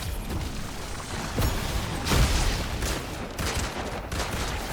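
Dense gunfire in a Fortnite Zero Build match, a mix of distant and close shots crackling in a steady barrage with occasional heavier bangs.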